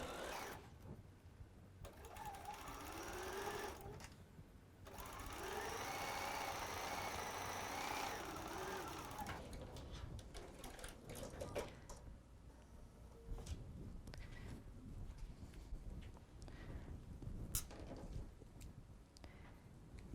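A sewing machine stitches pieces of a Christmas sampler gift quilt block, a steady mechanical whir that runs in loud bursts with short pauses, later giving way to lighter handling clatter and rustle.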